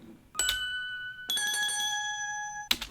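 Toy piano glockenspiel dry bells preset rings out in sustained shimmering bell tones, with a brief tone, a longer held chord with shaken jingle texture, then another struck onset, clear and alone.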